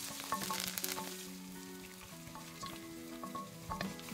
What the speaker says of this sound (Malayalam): ചെറിയുള്ളി നന്നായിട്ടൊന്ന് വാടി ഗോൾഡൻ കളറാവാൻ തുടങ്ങുന്നത് വരെ വഴറ്റുക